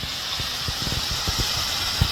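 A waterfall on a Maine brook along the Kennebec River pours as a steady broadband hiss, constant and moderately loud, with faint low thumps underneath and no voices.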